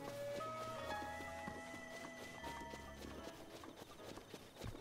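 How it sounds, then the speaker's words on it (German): Horse hooves galloping in The Legend of Zelda: Breath of the Wild, a quick rhythmic clip-clop running over in-game music with tonal notes, fairly quiet and with no talking. "Wir reiten jetzt hier irgendwo rum."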